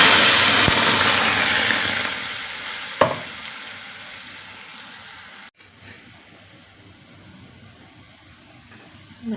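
Ground tomato chutney poured into hot sesame oil with fried curry leaves, a loud broad sizzle that settles into a quieter bubbling hiss, with a couple of sharp clicks from a pan or spoon.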